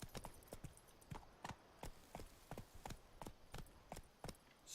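Horse hooves clip-clopping at a steady walking pace in The Witcher 3: Wild Hunt, a regular series of crisp, distinct hoof strikes at fairly low volume with no speech.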